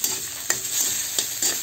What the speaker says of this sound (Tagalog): Haluin lang natin ito hanggang sa maluto ang sibuyas.